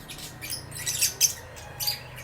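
A chicken gives several short, shrill squawks close by, with brief gaps between the calls against a quiet background.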